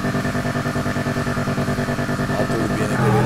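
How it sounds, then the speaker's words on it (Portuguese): The tuned engine of an Imponte Phoenix in GTA V, modeled on a Pontiac Firebird with a turbo, idles in a steady, loping rumble with rhythmic pulses. It rises into a brief rev at the end. "Agora vamos escutar o ronquinho do motor do bicho."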